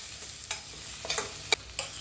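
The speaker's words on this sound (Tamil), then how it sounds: "இப்போ இது எல்லாத்தையும் சேர்த்து நல்லா வதக்கிக்குவோம்." A vegetable masala mixture sautéed in a pan, with a low sizzle under a few sharp scraping strokes of a spoon at close range.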